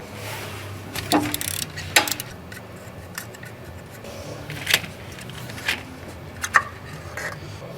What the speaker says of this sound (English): we'll remove the number 10 bolt here and we'll pull the cups